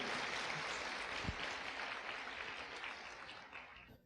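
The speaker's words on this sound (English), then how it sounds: "Let's give a round of applause again." Audience applause at a talk in Silicon Valley, a soft, distant wash of clapping that slowly fades toward the end.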